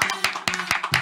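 Brief scattered applause for a competitor at a Champion du Midi World Cup quarter-final: a handful of sharp, close claps in quick succession.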